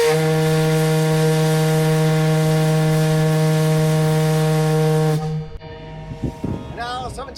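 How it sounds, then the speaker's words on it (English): A loud, steady fog whistle on Mackinac Island blasts with a harsh, buzzing tone for several seconds, then stops abruptly, leaving faint voices and ambient noise. "Sound is a fog whistle!"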